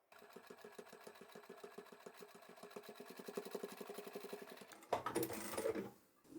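A sewing machine stitches a narrow top-stitch seam closed on a beanie hat, its rapid rhythmic needle chatter steady and close, ending with a few seconds of fabric handling and rustling.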